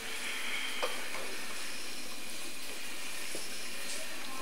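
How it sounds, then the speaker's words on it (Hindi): Chicken, masala and arbi fry in a pan with a steady, even sizzling hiss and a few faint crackles and pops throughout. "अब हम इसे फ्राई कर रहे हैं।"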